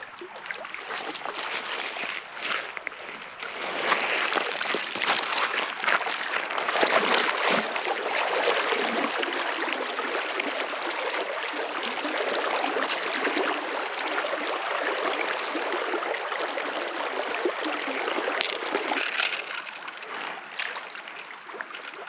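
Golden Trout Creek flows in a continuous broadband rush of water, steady and fairly close, with no voices.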